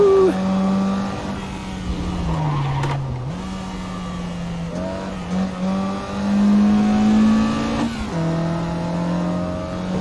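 Mazda Miata engine in the Assetto Corsa racing game, revving up and down through gear changes with a buzzy, fluctuating drone, close and prominent; brief voice sounds come through faintly.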